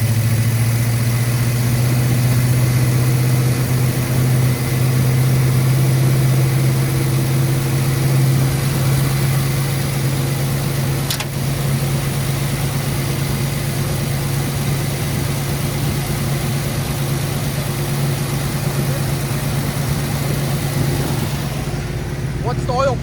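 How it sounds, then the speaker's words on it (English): A 1968 Ford Country Sedan V8 runs steadily near the microphone, a low constant engine drone held at a raised idle for the whole stretch, with people talking now and then over it. "rev it up. Give me 2K."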